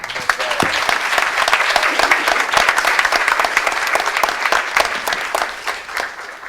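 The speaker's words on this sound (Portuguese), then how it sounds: "também eu queria pedir que a gente aplaudisse" An audience at a proposals meeting breaks into full, dense applause, a loud crowd of individual claps sustained throughout before tapering slightly at the end.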